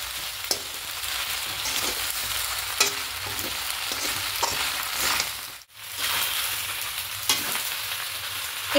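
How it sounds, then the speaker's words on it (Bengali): Pasta stirred and tossed in a frying pan, a close steady sizzle with occasional scraping strokes of the utensil and a brief break partway through, no speech. "এইভাবে পাস্তাটা দিয়ে আরও কিছুক্ষণ একটু মিশিয়ে নেব"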